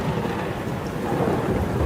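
Steady heavy rain falls with low rumbling thunder in a drama scene, a dense continuous wash of noise with no voices.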